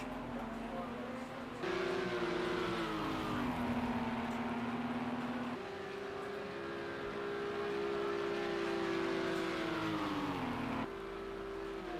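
Race cars accelerating out of La Source toward Eau Rouge at the Spa circuit during an endurance race, a loud continuous engine drone rising and falling in pitch through gear changes, with commentary over it.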